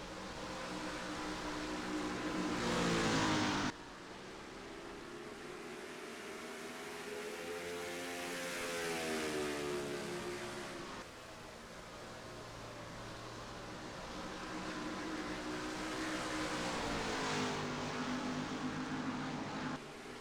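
Race cars circle an oval in an ILAC Cup Series sim race at Milwaukee, their engines a steady, dense mechanical drone with gentle pitch swells as the pack holds close together, no voices over it.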